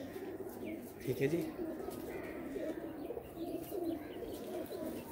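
Paired pigeons on a rooftop coo softly in low, rolling calls across the moment, while someone speaks briefly nearby.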